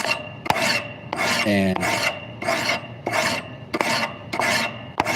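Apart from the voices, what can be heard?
filing a blade edge smooth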